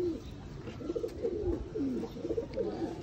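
Sialkoti pigeons of the rare chuhe breed coo softly and close by, giving a few low, rolling calls one after another over faint background noise.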